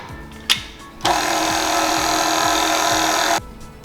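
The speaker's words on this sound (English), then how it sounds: "We'll put our whisk attachment and we'll just whisk it all together to give it a nice little mix." A stand mixer with a whisk attachment blends yeast, salt and baking soda in a bowl. A sharp click comes first, then the motor whirs steadily for over two seconds before stopping abruptly.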